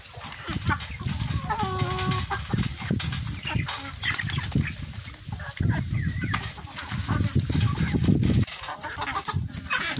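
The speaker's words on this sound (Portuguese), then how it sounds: "E estão aí os nossos índios gigantes, né? Os nossos frangos." Índio Gigante chickens on a farm cluck and call repeatedly at close range, with bursts of wing flapping and a busy chorus of fowl throughout.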